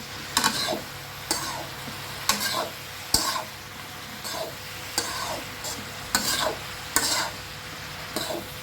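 A spoon scrapes through fish and bottle gourd curry in a pot, giving a regular series of eight or nine sharp strokes about a second apart, fairly close, over a low background hiss.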